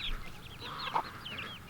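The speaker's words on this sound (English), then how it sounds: "Got the chickens moved and I got mama hen out with her babies." A mother hen clucks softly on a small farm while her chicks peep in quick, high, overlapping chirps close by, with no talking.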